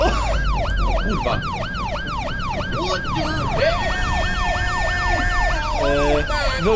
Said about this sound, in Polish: Wyłącz ten alarm.